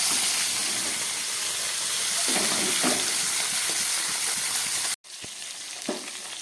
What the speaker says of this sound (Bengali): মাছটা প্রায় দু মিনিট ধরে ভাজা হলো একদম গ্যাস কমিয়ে রান্না করছি